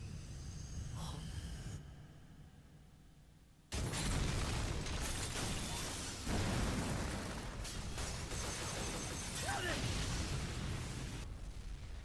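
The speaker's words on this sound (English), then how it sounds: "They dropped a whole bomb on freaking Agent of Autumn" A bomb detonates in a video game, a sudden loud full-range blast that cuts in after a quieter stretch and rumbles on with crackling, debris-like noise and further bursts.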